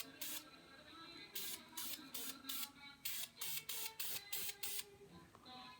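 Repeated short bursts of spray paint can hissing, about nine quick sprays in a rhythmic run, close and fairly loud, with no talking.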